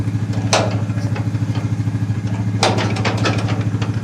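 A John Deere tractor engine, just started on choke and throttle, runs with a loud, rapid, even thumping idle. Two brief clattering bursts rise over the steady pulse.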